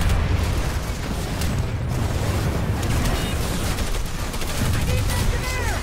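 A grenade blast during a house-clearing operation, rough booming bursts amid a continuous roar of gunfire-like noise, with voices shouting faintly underneath.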